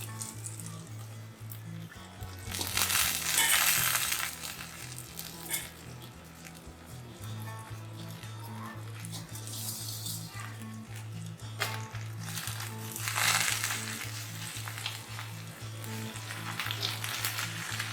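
Thoothuvalai greens hit hot oil in a pan and sizzle loudly, a bright crackling hiss that swells as they are stirred and then settles into a steady close frying sound, with a low hum underneath.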